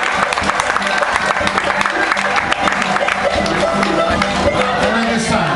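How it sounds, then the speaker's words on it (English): An audience claps and cheers for a dancer at a Te Korero Maori dance group performance, with dense continuous applause while a voice talks over it. "please a big round of applause for Anna"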